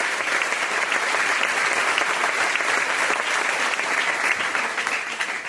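A congregation claps loudly and continuously during a Catholic sermon, with thick, even applause holding steady throughout and no speech over it.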